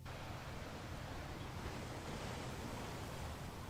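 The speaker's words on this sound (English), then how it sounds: "if you put it up to your ear, you can hear the ocean" Ocean sound heard in a seashell held to the ear: a faint, steady, hollow rush of noise like distant surf, unbroken and without voices.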